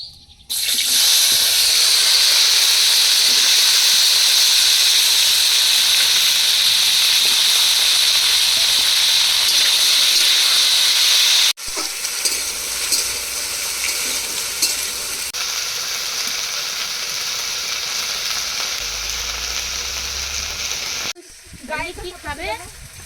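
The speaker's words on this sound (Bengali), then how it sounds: "এবার দেব কেটে রাখা আলু আর পুঁই শাকের ডাটা" Cut potatoes and Malabar spinach stems hit hot oil seasoned with cumin and dried chillies for a fish curry, giving a loud, steady sizzle. Stirring and softer frying follow, and voices talk over the later part.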